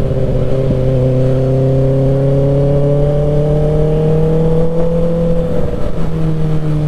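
A 2024 Kawasaki ZX-6R 600cc sport bike engine being broken in during a night ride, loud, close and continuous, its pitch rising steadily through the gears with a brief dip near the end.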